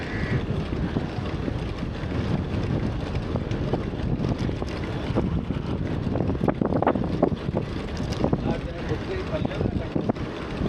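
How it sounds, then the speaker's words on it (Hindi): Strong headwind buffets a cyclist's microphone on a morning ride near Ahmedabad, a loud continuous roaring rumble throughout with someone speaking under it. "बहुत तेज़ हवाएं चलती हुई हेडविंड का सामना कर रहे हैं हम लोग।"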